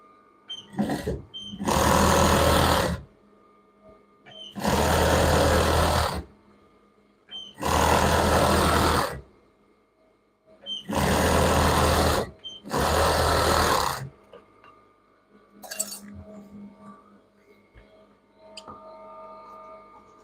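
A sewing machine runs in five or six sustained loud bursts of a few seconds each, stitching children's pajama pants, with short quiet pauses and faint handling noises between runs.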